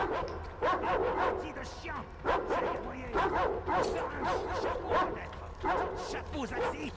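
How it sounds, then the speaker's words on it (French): Several dogs bark and yip in Metro Exodus, bursts of barking repeating at a steady rhythm across the clip, fairly close and loud over a low rumbling hum. "Ah, les chiens, ils ont senti ma présence."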